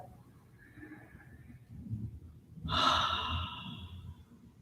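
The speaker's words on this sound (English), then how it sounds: "and get a good inhalation here. Exhale, collapsing above the pubic bone. One more breath." Deep breathing during a yoga session, heard as a soft, close inhale followed by a longer, breathier exhale, with no talking.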